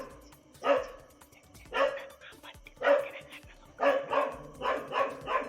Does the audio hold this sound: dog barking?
yes